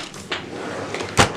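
A makeup drawer is pulled open with a soft rub and a sharper clack at the end, close by, after a couple of lighter handling taps.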